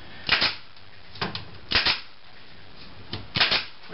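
Staple gun driving staples into the wooden frame of a screen bottom board for honey bee hives: five or six sharp, close snapping clacks in irregular pairs and singles, no talking.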